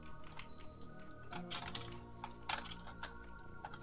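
Computer keyboard keys clatter in quick irregular bursts during a Rocket League match played on keyboard and mouse, close and crisp, with game sounds faintly underneath.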